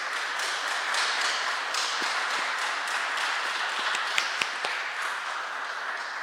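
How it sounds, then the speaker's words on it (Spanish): A conference audience gives sustained applause after a talk on AI and the Dirty War. The clapping is a steady, dense wash of many hands with a few sharper individual claps standing out. "Y les damos un fuerte aplauso,"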